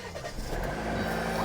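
Car engine firing up after a jump-start from a GooLoo A3 portable booster, a brief cranking surge settling into a steady idling rumble, close and alone.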